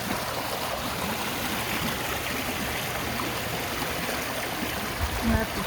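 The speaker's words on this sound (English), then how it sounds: "This is just one heck of a river." Flooded garden stream swollen after heavy rain, rushing loudly and continuously close by with dense churning water noise and no talking.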